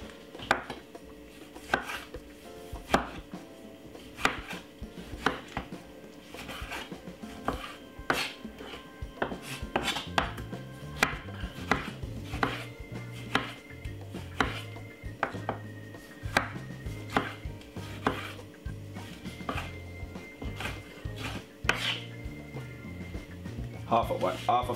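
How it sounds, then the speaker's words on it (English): A knife chops a medium-sized tomato on a board with steady, sharp taps and scrapes that come close and clear throughout, under occasional talk. "we're going to cut up 1 medium-sized tomato"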